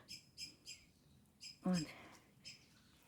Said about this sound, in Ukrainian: Щебечуть плічки.